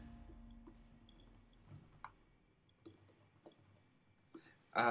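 Faint, scattered clicks come from a computer keyboard with a stuck K key, tapped irregularly during a World of Warcraft session, with a sharper, louder clatter right at the end.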